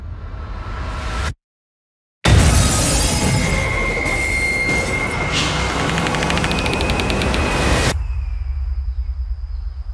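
A bomb blast in the final trailer for A Quiet Place Part II comes after a second of dead silence as a sudden loud boom. A roaring, crackling rumble follows for about six seconds, then fades to a low tail.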